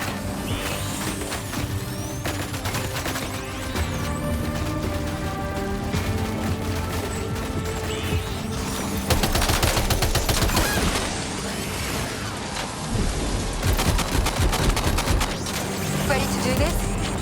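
Continuous heavy gunfire and crashing impacts in Death Stranding 2: On the Beach, a dense loud barrage with music underneath and louder bursts in the second half, sustained throughout.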